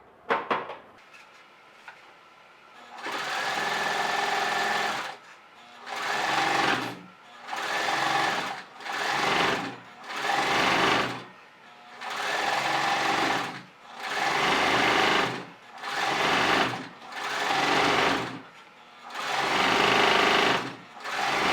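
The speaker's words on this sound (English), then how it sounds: "Here I am sewing around the top edge where I had previously pressed." A sewing machine stitches around the top edge of a fabric tote bag in a run of steady whirring bursts, each lasting about a second or two with short pauses between, close and clear with no talking.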